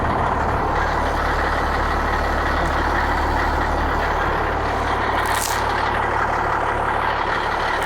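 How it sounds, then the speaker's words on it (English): A truck engine with a straight-pipe exhaust and no muffler idles loud and steady, a dense raw rumble held throughout with a brief hiss partway through. "There's no muffler. So it's a piece of straight pipe. That's why it sounds so good."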